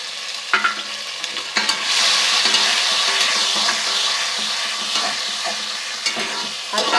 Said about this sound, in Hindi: हल्का सा फ्राई कर लेंगे।